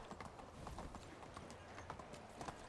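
A horse's hooves clip-clop in the medieval life-sim game Medieval Dynasty, a steady run of soft repeated knocks over a low rumbling background, moderately close with no talking.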